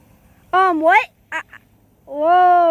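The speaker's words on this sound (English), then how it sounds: "Look at all those birds!" Several ducks quack loudly and nearby in two bursts of harsh calls, then one longer drawn-out call, with a short faint call between them.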